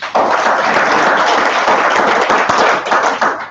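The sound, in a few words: audience applause at a seminar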